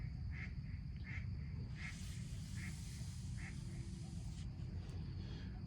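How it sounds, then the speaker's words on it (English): Ducks quack repeatedly at night, a string of short, evenly spaced calls at moderate distance over a steady, noisy low rumble. "The ducks are really loud tonight."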